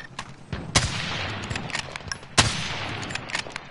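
Rapid gunfire from a Call of Duty Modern Warfare match, with two loud sharp bursts standing out above a steady rattle of distant shots and game noise.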